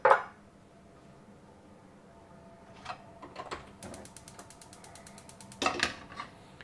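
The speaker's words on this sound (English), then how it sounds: "I'm going to turn this on to medium heat right now." A stove knob is turned toward medium heat, giving a sharp click followed by a run of rapid, even mechanical ticking and a final clack, close and fairly quiet with no talk.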